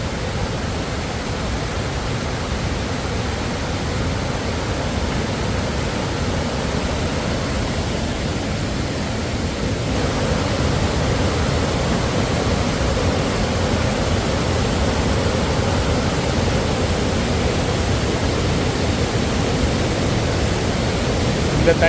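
Steady, loud rush of a forest waterfall in summer, a broad unbroken roar of falling water that holds for the whole stretch, slightly louder in the second half.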